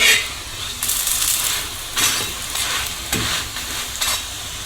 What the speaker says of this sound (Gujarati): આપણે થેપલાને ફેરવી લીધા બાદ આ રીતે ચમચીથી ફરતે ફરતે તેલ નાખી લઈશું, જેથી આપણું થેપલું સડી જાય સારી રીતે.